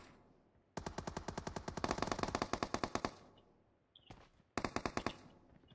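Rapid automatic gunfire in a video game, a loud sustained burst of closely spaced shots followed by a short pause with a faint click, then a second shorter burst.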